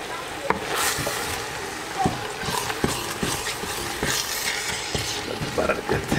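Butter and spices stirred in a pot for kid-friendly doro wat, a spoon scraping in steady strokes over a soft sizzle, close and moderately loud.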